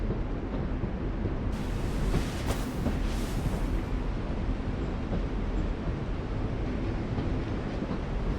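A train in The Walking Dead video game, Season 4 Episode 3, makes a continuous deep rumble with a broad roar that swells briefly midway and carries on steadily.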